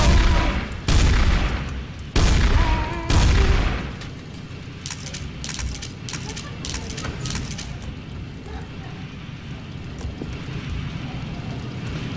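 Gunfire in a multiplayer survival video game comes as a few heavy, booming shots close together in the opening seconds, then fades into a low, steady rumble of game noise.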